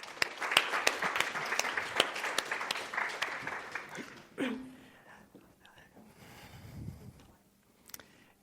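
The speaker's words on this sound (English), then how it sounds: "please give him a big round of applause" An audience claps for a speaker walking onto a conference stage, a run of distinct, fairly close claps over the first four seconds that thins out and fades, followed by quieter room sounds and some talk.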